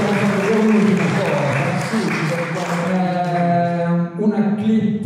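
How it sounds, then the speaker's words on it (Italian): An audience at a talk applauds steadily throughout, a continuous wash of clapping with a voice speaking over it. "Io vi chiedo però di fare un applauso per Pier Tosi."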